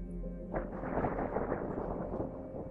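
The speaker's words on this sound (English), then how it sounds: "It was thunder." Thunder rolling in: a deep, heavy rumble that swells after a brief lull and keeps grumbling steadily to the end.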